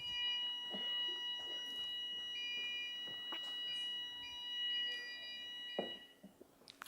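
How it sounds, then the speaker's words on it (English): A fire alarm sounds indoors during a conference talk, a steady high electronic tone running throughout, with scattered clicks and knocks from the room beneath it. "let them kill the alarm."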